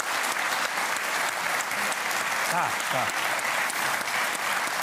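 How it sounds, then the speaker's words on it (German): Continuous studio audience applause on a German TV cooking show, steady and full throughout, with brief spoken words from a man audible over the clapping. "Ich möchte bitte einen Applaus, ja?"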